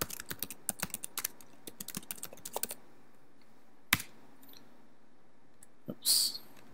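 Someone types on a computer keyboard to rename a folder, a quick run of close key clicks for a few seconds, then a couple of isolated clicks and a short final tap.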